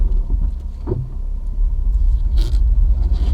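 A Toyota Prius that sat unused for a year runs with a low rumbling idle, a steady engine drone with a brief higher mechanical whine partway through and no talking.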